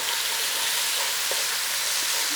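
Garlic and ginger sizzle steadily in hot oil in a pan for a beef stir fry, a dense continuous frying hiss close to the pan with no talk over it.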